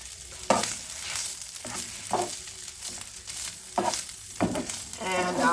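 Potatoes frying in a pan for steak and potato tacos, a steady close sizzle broken by rhythmic stirring scrapes, with no voice.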